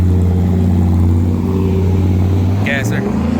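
Gasser car fitted with a Toyota engine, idling loudly and steadily with a deep rumble at a street cruise, a brief higher squeal near the end.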